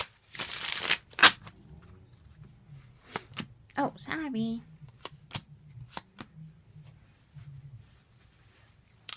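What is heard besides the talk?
shuffling tarot cards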